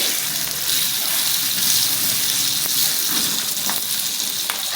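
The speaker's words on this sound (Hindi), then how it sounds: "हरी मिर्च डाल के जस्ट एक स्टर देंगे।" Green chillies sizzling in hot oil in a pan while being stirred, a steady bright crackle and hiss throughout with a few clinks from the stirring utensil, no voices.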